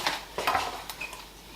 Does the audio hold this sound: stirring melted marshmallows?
yes